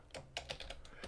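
Quick keystrokes on a computer keyboard tap out a short burst of about eight clicks in an uneven rhythm, close and quiet, with no voice.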